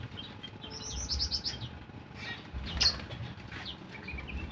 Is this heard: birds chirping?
yes